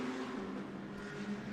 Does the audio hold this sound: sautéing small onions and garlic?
no